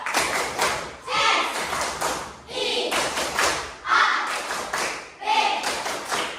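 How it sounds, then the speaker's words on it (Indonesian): Schoolchildren in an Indonesian classroom perform the rhythmic 'tepuk siap' clap routine, bursts of group clapping and thumping alternating with chanted voices in a repeating call-and-response pattern. "Coba sekali lagi. Tepuk siap."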